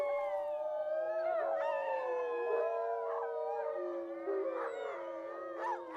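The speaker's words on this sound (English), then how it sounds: "The farmer must play the recorded rival wolf howls every day" Recorded rival wolf howls played through a loudspeaker toward a forest: several long, overlapping howls rise and fall continuously, layered and close, with no talk over them.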